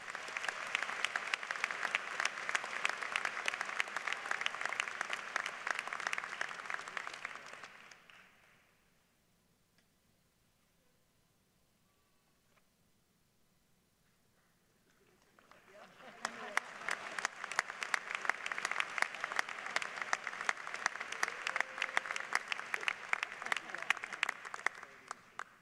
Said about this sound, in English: let's give all of our elected senior officers for next year another round of applause.